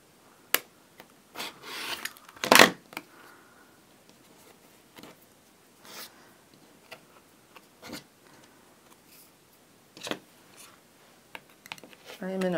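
Rotary cutter slicing quilt fabric along a ruler for a quilt block, heard as a few faint scraping cuts and small taps and ticks, sparse and close, with someone talking between them.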